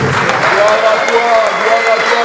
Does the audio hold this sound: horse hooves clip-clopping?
no